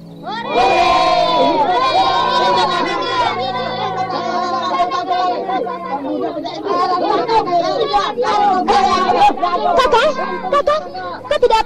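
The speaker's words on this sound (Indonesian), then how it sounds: "Sementara itu orang-orang padukuhan yang sejak tadi berdiri tegang kini berteriak dengan penuh semangat." Villagers in a Javanese period drama shout and cheer together, a dense, loud crowd of excited voices sustained throughout with overlapping cries rising and falling.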